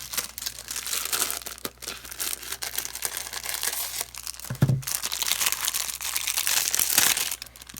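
Plastic packaging around soap embed molds crinkles and tears as it is cut open and unwrapped, a close, continuous rustling with a few sharper crunches and pops.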